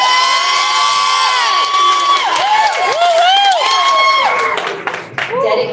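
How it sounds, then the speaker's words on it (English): Live audience cheering, whooping and shouting loudly for about six seconds, with rising and falling yells layered over continuous crowd noise that dips briefly near the end. "Can we get a clap?"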